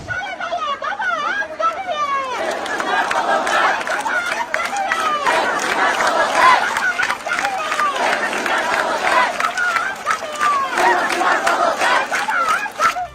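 Protest crowd of students and citizens chanting slogans demanding a ruler's resignation, a dense roar of many voices shouting in rhythmic waves, loud and continuous throughout.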